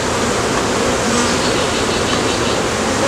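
Honeybees drone on a frame lifted from a single brood chamber hive, a dense, continuous buzz of many insects heard up close and steady throughout.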